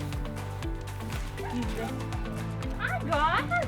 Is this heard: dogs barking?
yes